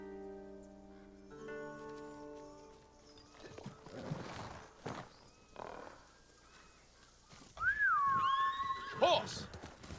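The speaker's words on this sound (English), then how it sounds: "Horse!" In the video game Ghost of Tsushima, a horse whinnies with a rising then falling call near the end, after scattered hoof and movement sounds following a musical tone.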